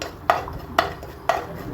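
A spoon stirring bread pudding mixture in a cooking pan gives three evenly spaced, light metallic clinks about half a second apart, close and fairly quiet.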